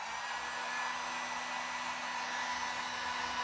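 A heat gun blowing on camo vinyl wrap laid over a hood to work out creases, a steady loud airy whirring hiss with a constant motor whine, close and unbroken.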